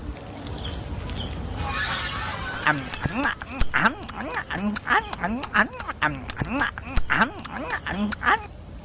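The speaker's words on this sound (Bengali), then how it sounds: "ওহ, কি তাজা তাজা হাঁস!" Repeated cartoon duck quacks at a duck farm at night, about a dozen in a quick irregular series, sounding close, over a steady background hum.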